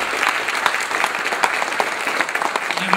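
Strong, sustained applause from a festival-opening audience honouring the city president, dense clapping throughout at close range with no talk over it.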